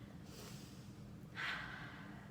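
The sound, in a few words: loud gasping breath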